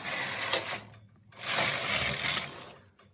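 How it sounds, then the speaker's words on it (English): A knitting machine carriage sweeps across the needle bed knitting a contrast colour row from a punch card, giving two loud, close mechanical rasping passes separated by a short pause. "My first contrast row has knitted into the needles."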